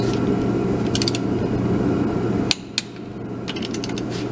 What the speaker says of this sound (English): we're going to need to torque these wheel nuts